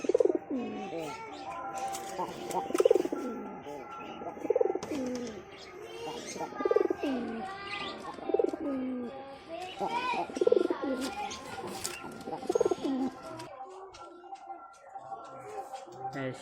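A hunting pigeon coos in a repeated rhythmic series of low, throaty calls, close and fairly loud, with faint chirps and ambient noise around it before the calls stop near the end.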